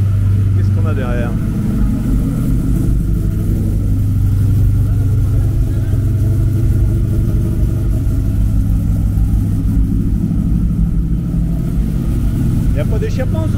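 A car with no exhaust fitted runs loud and steady throughout, its deep, rough engine drone continuous with slight swells in revs, while people talk over it.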